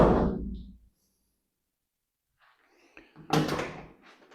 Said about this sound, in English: And let's close the door to make sure we don't have interference.